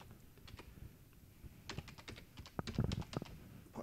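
A username goes in on a computer keyboard. Quiet key taps come at an uneven pace, sparse at first and then thickening into a quicker burst of close clicks.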